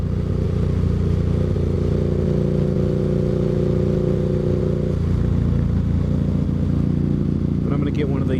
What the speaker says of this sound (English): I mean, you can hear the exhaust, but it doesn't bring out the bass and everything else